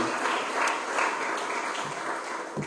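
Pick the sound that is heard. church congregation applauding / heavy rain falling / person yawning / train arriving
church congregation applauding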